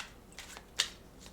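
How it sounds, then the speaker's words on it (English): A deck of tarot cards is shuffled, giving a few soft, papery riffles and one sharper flick in a brief, quiet moment. "I'm going to go ahead and shuffle the deck for the court cards"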